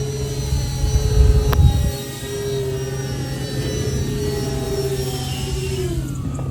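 E-Flite Twin Timber 1.6m twin-engine RC plane flying inverted, a steady droning electric motor whine holding at constant level throughout, louder during a brief pass near the start.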